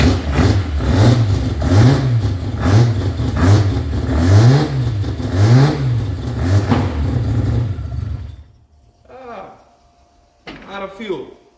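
A Mazda Capella rotary engine revs loudly in steady repeated rising-and-falling blips for about eight seconds, then cuts out, followed by brief talk.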